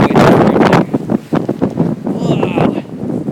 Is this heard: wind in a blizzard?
yes